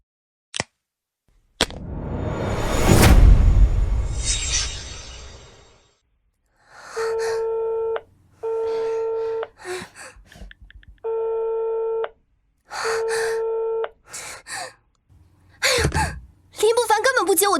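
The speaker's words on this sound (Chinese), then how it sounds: "林不凡根本不接我电话" A telephone busy signal repeats in steady, evenly spaced beeping pulses after a loud rushing burst, with a few brief clicks and breathy sounds between them.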